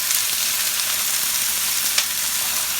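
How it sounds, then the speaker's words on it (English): Continuous loud sizzling of peppers and onions in a blazing hot skillet, with one faint scrape or stir near the end. "Nice blazing hot skillet here. Sprinkle in our pepper onion blend."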